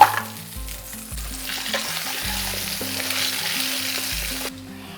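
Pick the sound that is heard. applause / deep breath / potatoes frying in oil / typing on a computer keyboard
potatoes frying in oil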